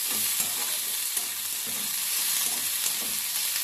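Chopped vegetables and spring onion greens being tossed and stirred in a hot pan with very little oil, a steady close sizzle broken by soft periodic scraping strokes, with no talking.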